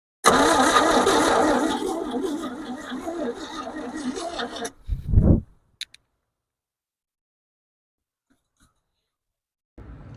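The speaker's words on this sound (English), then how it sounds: "It's sputtering like it wants to run" A 1963 Chevrolet C-10 truck engine cranks and sputters for several seconds, trying to catch, then cuts off abruptly into near silence, with a brief faint noise near the end.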